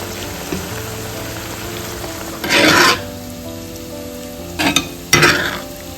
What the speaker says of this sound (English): Let's add the pan-fried chicken to the gravy.